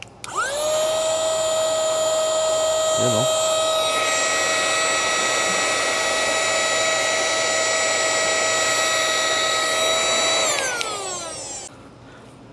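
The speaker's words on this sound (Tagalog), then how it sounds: "testing naman natin yung kanyang blower function" A Keelat 2-in-1 cordless vacuum used as a blower whines at a steady high pitch for about ten seconds, then winds down; a voice speaks briefly near the start.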